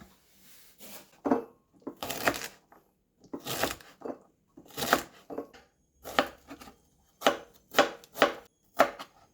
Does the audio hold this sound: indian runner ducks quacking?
no